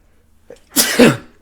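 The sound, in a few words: sneeze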